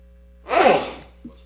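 A single sharp sneeze bursts out in a quiet council meeting room, loud and close, followed by a brief soft catch of breath.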